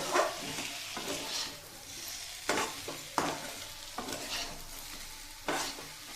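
Peanuts and new potatoes are stirred in a hot pan, a steady sizzle broken by several sharp scraping strokes of the spoon at irregular intervals, close and fairly loud with no voices.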